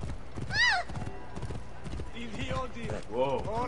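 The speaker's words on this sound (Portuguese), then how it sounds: "Olha o cavalo passando aí" A horse in the Assassin's Creed Origins video game passes by with rhythmic clip-clopping hooves and loud whinnies, while someone talks over the game sound.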